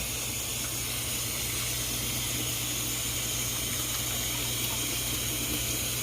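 Cold tap water runs steadily over drained noodles in a sink, a constant close hiss and splash with no talking.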